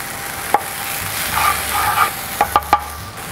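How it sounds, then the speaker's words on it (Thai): Sliced chili and garlic stir-fried in a pan, with a steady sizzle broken by several sharp scraping stirs of a utensil against the pan, close and clear with no talk. "ใส่พริกกับกระเทียมที่เราซอยไว้ คั่วไปก่อนนะคะ"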